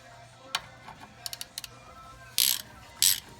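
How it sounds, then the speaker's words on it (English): A ratchet tightening brake calipers on a 1996 Dodge 2500 truck: a few soft, close clicks, then two short, louder ratcheting bursts near the end, with no voices over them. "Tightening up the calipers."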